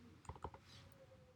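Computer keyboard typing a terminal command: a few soft, quick key clicks in a quiet room, ending with one sharper, louder keystroke like a press of the enter key.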